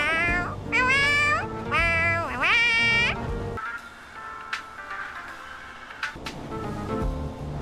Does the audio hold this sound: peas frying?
no